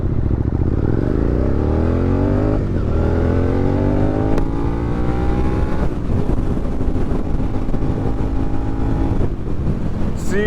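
An SV650 motorcycle engine revs up close and loud at about quarter throttle, its pitch rising steadily as it accelerates, dipping at gear changes before climbing again.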